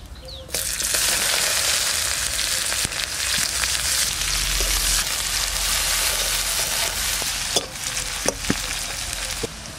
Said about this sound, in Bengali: আর একটু তেল দিয়ে দেবো, সর্ষের তেল, তেজপাতা, জিরে, পেঁয়াজ,